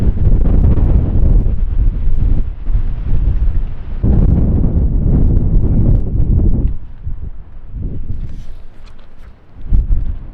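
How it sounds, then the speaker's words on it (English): Strong gusts of wind buffet the microphone in a backyard, a loud, low rumbling roar that surges and dips in waves, easing slightly toward the end before a final sharp gust. "You guys can kind of see how windy it gets back here"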